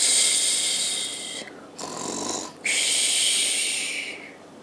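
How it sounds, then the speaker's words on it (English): A wolf snores loudly and close in a storybook cottage, giving a few long rasping breaths in a slow rhythm that fill the short stretch alone. "He snored so loudly the woodcutter heard him."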